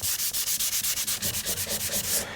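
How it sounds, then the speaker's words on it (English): Gray primer is hand-sanded on a Precision Bass guitar body, a close, even back-and-forth scraping in quick regular strokes, about six per second, heard alone with no talk. "it works best if I change direction frequently as I'm sanding."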